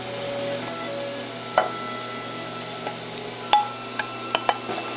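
Garlic and king crab meat fry in margarine, a soft, steady sizzle broken by a few sharp clicks and taps of a utensil against the pan.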